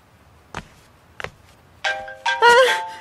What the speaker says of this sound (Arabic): التليفون الحمد لله انه رن